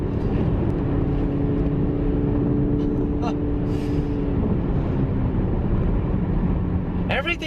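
Exhaust of a 2019 BMW Z4 20i while driving, a steady loud rumble and road roar filling the cabin, with a brief sharp crackle near the end.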